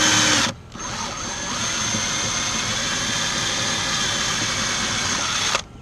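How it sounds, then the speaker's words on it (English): A power drill bores steadily into a weatherproof box built to house a Hunter sprinkler control unit, a continuous close whine with a constant buzz lasting about five seconds after a brief start, then stopping abruptly. "drill ever so carefully"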